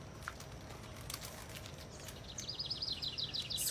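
Birds singing in the background outdoors, faint chirps and then a quick repeated trilling phrase near the end over a low, quiet ambient hum.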